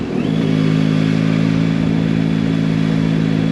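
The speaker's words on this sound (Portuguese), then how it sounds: "o 3 cilindros, isto é viciante, a moto tem um barulho muito fixe." A Yamaha Tracer 9 GT three-cylinder motorcycle engine runs loud and close during a test ride, a steady, throaty drone with a rising rev at the start and constant rumble throughout, no talking.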